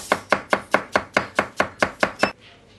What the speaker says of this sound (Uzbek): Qizil piyozlarimizni to'g'rab olamiz.